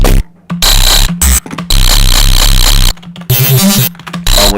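Synthesizer patch called FM Wobble gives loud, harsh bursts of buzzing, wobbling tone broken by short gaps, choppy and abrasive with no voices.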